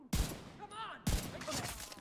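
Two sharp, loud gunshots about a second apart ring out in The Division 2, a PC shooter, with a voice talking between them.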